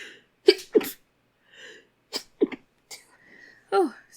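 Two people sneeze again and again during a job interview in pollen season: sharp, close bursts arriving in quick pairs and singles, with brief murmured words between them.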